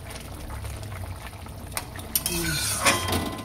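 Crab and bottle gourd curry stirred in a pot with a spoon, scattered scrapes and clinks against the metal over a soft bubbling simmer, growing louder toward the end, with no voice.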